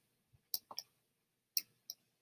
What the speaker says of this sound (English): So I'm just clicking, dragging out, and then clicking again